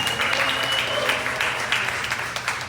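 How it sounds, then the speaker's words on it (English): Audience applause for the hosts at a songwriters' event in Opening Bell Coffee, a coffee shop, steady dense clapping from a small crowd that continues throughout. "can we have one giant round of applause for Opening Bell Coffee for hosting us?"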